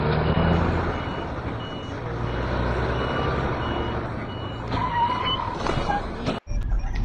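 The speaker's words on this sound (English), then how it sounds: "Oh, this truck's backing up." A truck backing up on an Australian road gives a steady series of loud, evenly spaced reversing beeps over road and engine noise, ending abruptly near the close.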